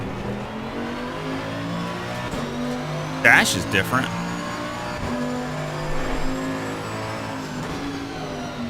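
In a racing video game, a GT car with a 4-liter bi-turbo engine revs hard and continuously up close. Its pitch rises and falls through gear shifts while a voice briefly talks over it.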